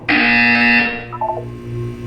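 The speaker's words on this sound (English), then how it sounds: "When you hear the buzzer, look up at the ceiling" A single loud, harsh electronic buzzer from the video game Portal 2 blares for under a second, then fades into a ringing tail with faint beeping tones.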